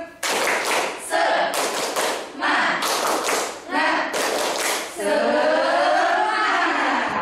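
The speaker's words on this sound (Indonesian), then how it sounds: "1, 2, 3, tepuk semangat." Students in a classroom perform a rhythmic spirit clap in loud, close bursts of group clapping with short pauses, then one long sustained stretch of clapping with voices mixed in.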